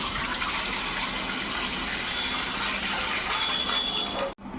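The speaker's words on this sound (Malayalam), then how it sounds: "അരി മുങ്ങിക്കിടക്കത്തക്ക രീതിയിൽ വെള്ളം ഒഴിച്ചു കൊടുക്കാം." Water poured into a pot over raw rice until it is covered, a steady close gushing splash that runs evenly for about four seconds, then cuts off abruptly.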